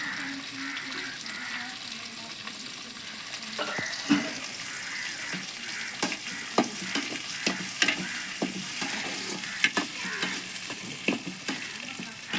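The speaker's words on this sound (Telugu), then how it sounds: "బాగా కలబెట్టుకోవాలి" Tomatoes fry in a pan for a village-style sweet potato and dried fish curry, with a steady close sizzle and repeated scraping and tapping of a stirring spoon, and light background talk.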